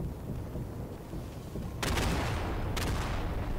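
Gunfire in the multiplayer war shooter Day of Infamy, with two sharp loud shots ringing out over a dense, steady rumble of battle noise.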